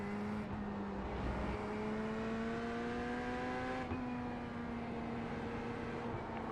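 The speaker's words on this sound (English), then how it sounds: "We have a LMP2 inbound." An LMP2 prototype race car in the iRacing sim approaches with a steady, buzzing engine drone that climbs in pitch, growing slightly louder as it closes in, with no voices.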